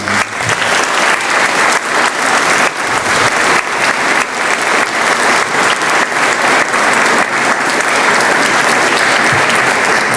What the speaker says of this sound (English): I would like to ask you for a round of applause for our veterans.